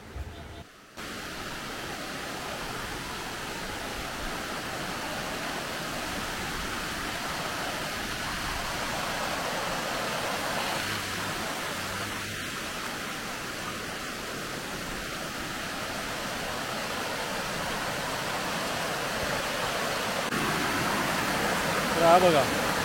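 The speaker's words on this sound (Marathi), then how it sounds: "हा चिंदरमधला पडेकाप धबधबा निसर्गाच्या कुशीत आहे" Constant roar of water from Padekap waterfall in Chindar, Konkan, a naturally formed fall in green surroundings, a steady wash of moderate loudness with faint voices in the background.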